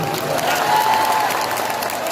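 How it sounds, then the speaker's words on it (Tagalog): A rally crowd in Batangas City claps after a poem reading, a short burst of dense applause at close range with a faint whistle-like tone partway through. "Palakpak naman."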